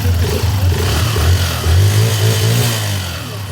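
A Honda CB125 motorcycle engine runs close by, a loud steady low chugging with slight rises and dips in revs over a few seconds, and no one speaking.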